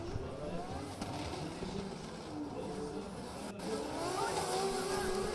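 A drift car's engine runs continuously around the track during an Oman International Drift Round 3 Top 32 event, a steady mid-distance motor drone that rises slightly toward the end, with crowd and ambient noise beneath.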